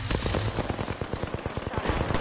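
Rapid automatic gunfire from a video game weapon, sustained dense bursts of sharp shots firing continuously and close up, with no talk over them.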